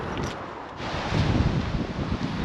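Wind gusts buffet the microphone at the main drive of a caravan site in Bridlington, a steady loud roar and rumble with no talk.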